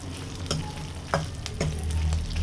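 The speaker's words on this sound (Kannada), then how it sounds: "ನೀಟಾಗಿ ಎಣ್ಣೆಯಲ್ಲಿ 1 ನಿಮಿಷ ಫ್ರೈ ಮಾಡ್ಕೊಳ್ಳೋಣ. ಇದಕ್ಕೆ ಒಂದು 4 ಒಣಮೆಣಸಿನ್ಕಾಯಿ ಹಾಕೋತಾ ಇದ್ದೀನಿ." Four dried red chillies fry in hot oil for a Karnataka village-style egg and chicken sambar, sizzling steadily up close with a few sharp crackles and stirring scrapes.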